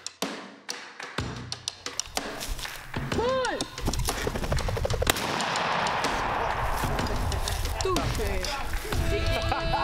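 Shotgun blasts ring out during a pheasant hunt in woodland, a few sharp reports in the opening seconds followed by busy outdoor noise, with people talking throughout.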